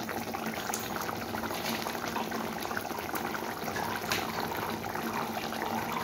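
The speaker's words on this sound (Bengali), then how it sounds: "4-5 মিনিট আমি মাছটাকে একদম ফুটিয়ে নিয়েছি" Bhola fish curry with mustard paste boiling steadily in a pan, a continuous close bubbling and simmering hiss with no voices.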